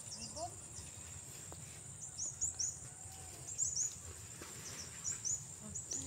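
Birds call in repeated short, high chirps in small bursts over a steady insect drone and low rumbling in an outdoor setting, moderately close but not loud.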